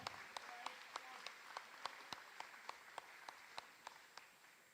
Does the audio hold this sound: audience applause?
yes